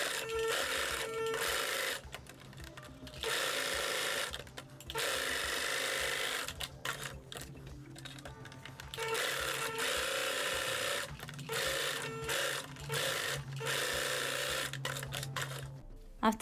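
A sewing machine stitches the sides of a fabric tool pouch in rapid whirring bursts, stopping and restarting several times with short pauses between runs.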